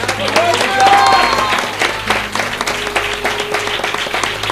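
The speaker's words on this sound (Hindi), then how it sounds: "आए पाक रूह के लिए तालियां बजाएं।" A church congregation applauds during a Hindi-language sermon about the Holy Spirit, a dense wash of clapping that swells and then thins over several seconds while a voice carries on over it.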